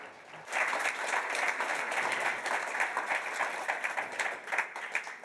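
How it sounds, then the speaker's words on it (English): Warm applause from a conference audience at a forests and communities event, a steady wash of many hands clapping that keeps going after a quiet start. "Warm round of applause."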